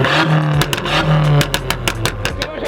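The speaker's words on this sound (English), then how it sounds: "You need to rev off." A car revving hard at an Irish car meet, with a sustained loud engine drone broken by several sharp throttle blips and crackles, close by and without talk.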